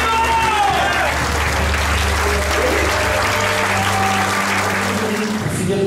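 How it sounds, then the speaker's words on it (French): Congregation applause fills a church service in Mauritius, a steady, dense wash of clapping over a low sustained musical drone, with faint voices mixed in. "Applaudissez le Seigneur."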